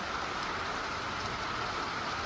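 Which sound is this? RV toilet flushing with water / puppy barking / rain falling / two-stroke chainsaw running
rain falling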